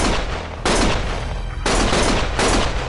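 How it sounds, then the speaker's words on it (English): Sustained gunfire from the video game Lost Judgment, loud continuous bursts of shots rolling in waves with brief dips between volleys, no speech. "Stop shooting!"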